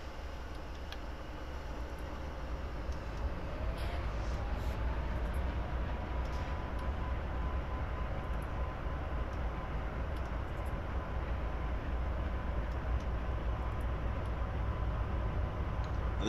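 Locomotive hauling a train at low throttle in a train simulator game on the Miami to West Palm Beach line, a steady continuous rumble with low drone and faint clicks, uninterrupted throughout.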